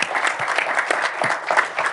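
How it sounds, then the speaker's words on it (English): A lecture audience gives a round of applause, brisk continuous clapping from a crowd, close and fairly loud with no talking over it. "Let's give him a round of applause."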